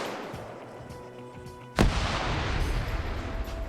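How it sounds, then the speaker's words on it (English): A sharp grenade blast erupts in an Arma 3 PvP match, a loud sudden boom followed by a sustained rumbling tail of gunfire and distant shooting. "Adamek running in, throwing a grenade."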